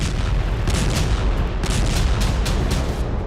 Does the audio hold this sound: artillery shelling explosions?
yes